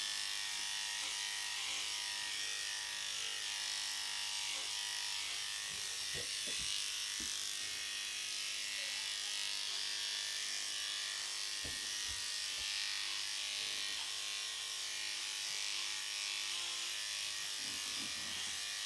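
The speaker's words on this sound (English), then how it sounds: "And I take the clipper down his neck in the front." Electric pet clippers buzz steadily and up close as they run down a small dog's neck and throat, a continuous hum with faint clicks and handling noises and no speech.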